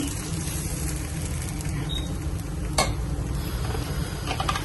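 Steady, continuous sizzling of dosa batter on a hot griddle over low gas flame, close up, with a brief scraping clatter partway through.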